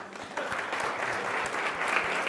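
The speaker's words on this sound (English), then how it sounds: "can we just give a massive round of applause to Marta?" Audience applause after a webinar presentation on reducing time to hire, steady dense clapping from a crowd filling the whole stretch, fairly close and even in level.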